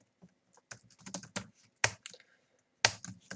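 Typing on a computer keyboard while writing SQL queries, with quick bursts of soft key clicks and two louder, sharper key strikes, close up in a quiet room.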